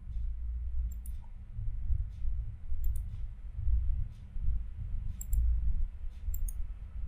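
Computer mouse clicks while drawing in Renga Architecture v4.7 software, soft scattered double clicks at irregular intervals over a low steady hum.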